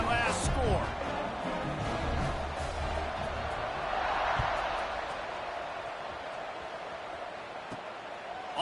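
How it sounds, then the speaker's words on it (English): A stadium crowd at an American football game keeps up a broad, distant roar and murmur after a score, steady and fairly loud. A commentator's voice sits on top of it. "this crowd is buzzing after that last score"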